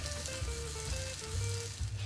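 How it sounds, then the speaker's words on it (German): Steady sizzling of filled pancakes (Palatschinken) frying crisp in a hot pan, a continuous crackling hiss with no talking. "Im Anschluss die gefüllten Palatschinken kross anbraten."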